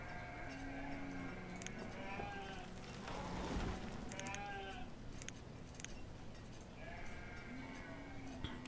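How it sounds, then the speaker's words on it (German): Sheep in the farming game Banished bleat repeatedly at moderate distance, several overlapping calls rising and falling over a soft ambient bed, with a brief burst of louder noise in the middle. "Und hier wieder Schafe."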